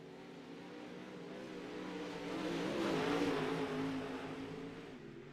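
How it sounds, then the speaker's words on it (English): Dirt track race cars roar along a bumpy straightaway, engines rising and falling as drivers work the throttle, a distant pack swelling louder toward the middle then easing off, with no voices. "You can hear these cars really working the throttle over the bumps on the straightaways."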